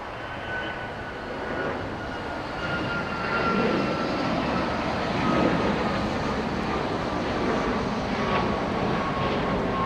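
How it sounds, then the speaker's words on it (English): A United airliner departs from LAX, its engine roar a steady broadband rumble that swells slightly toward the middle of the clip and holds at a moderate distance. "We have a United departure happening right now."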